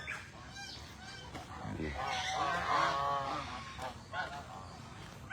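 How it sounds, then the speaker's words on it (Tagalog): A flock of geese honking repeatedly, close by, with overlapping calls and some background voices and farmyard noise. "Mga aking mga gansa."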